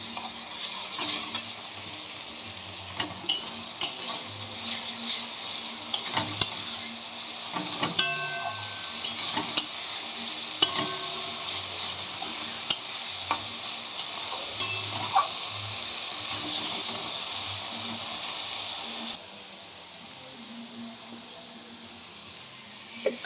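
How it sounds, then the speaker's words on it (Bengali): Spice masala with ginger-garlic paste and fried onion frying in a pan for mutton kosha, a steady close sizzle broken by frequent scraping stirs and clinks, going quieter near the end. "মশলাটা আমি এখন ভালো করে কষিয়ে নেব"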